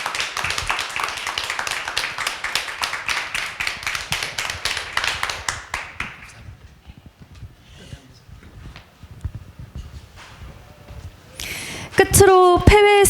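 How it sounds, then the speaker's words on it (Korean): Lecture audience applauds after a special talk in a hall, dense steady clapping that fades out after about six seconds, followed by quiet room noise and a brief burst of musical tones at the end. "지금까지 주셨던 박수보다 더 힘찬 박수 부탁드립니다"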